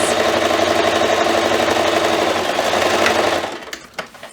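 A sewing machine stitches steadily at close range for about three and a half seconds, a fast mechanical whir, then stops with a few faint clicks.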